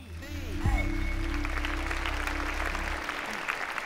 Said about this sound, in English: please come here with an applause for Willemijn.